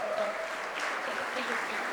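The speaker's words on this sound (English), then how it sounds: "huge clap for them because they traveled over here" Audience clapping for the speakers at a conference closing keynote, a steady, fairly soft patter of hands filling the short span, with a voice briefly rising over it near the start.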